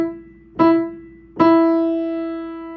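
Two piano notes sound, the first struck and fading quickly, the second held and ringing longer as it slowly decays, close and clear with no voices.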